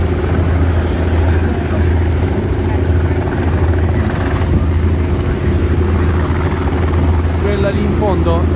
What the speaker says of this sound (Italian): lì in fondo è la piattaforma da dove decollano gli elicotteri per fare il tour sia di giorno e sia di notte di Manhattan